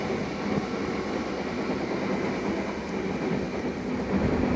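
A Southeastern Class 376 or 465 electric train on the line from Charing Cross toward Hayes in Kent gives a steady, even rumble with faint rail clatter, heard at a constant moderate level.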